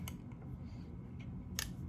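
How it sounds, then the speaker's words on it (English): Spring-loaded curved scissors snip through cardboard in two short, crisp cuts, one at the start and one near the end, faint and close against a quiet low background hum. "so it's easy, makes it easier to cut the cardboard, and it's curved, so you can get through the cardboard easier"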